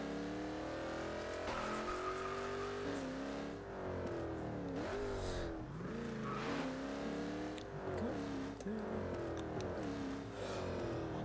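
A car drives in the Garry's Mod game, its engine revving up and down in near, continuous waves with brief tire squeals and skids, and little else over it.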